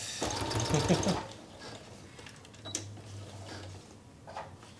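A sewing machine stitching a seam through stiff fabric, running in a loud, fast burst for about a second, then stopping, leaving only faint handling sounds.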